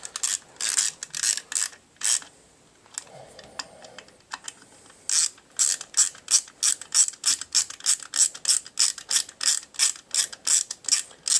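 A ratchet wrench tightens bolts into plastic on a Generac 5000 generator, giving bursts of rapid, crisp clicking, close and loud. A pause comes in the middle, then a long steady run of evenly spaced clicks.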